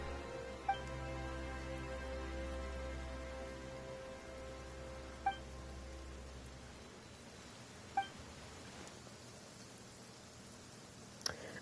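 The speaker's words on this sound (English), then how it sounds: "Why is it raining all of a sudden?" In Genshin Impact, rain falls as a soft, steady patter, fairly faint and even, with a few light clicks spaced every few seconds and a low hum fading out midway.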